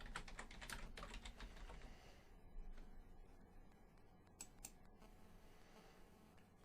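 Typing on a computer keyboard, a quick burst of soft key clicks followed by a few scattered taps, faint and close.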